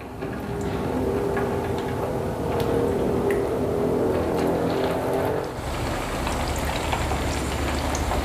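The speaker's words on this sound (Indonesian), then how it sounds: "Kita masukkan dalam minyak panas." Sempol coated in egg fries in hot oil, a steady dense sizzle and crackle that shifts and grows brighter partway through.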